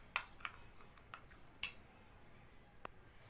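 A spoon clinks against a bowl while mixing a rose powder face pack, several light, close taps and scrapes spread out unevenly, then a single small clink after a short pause.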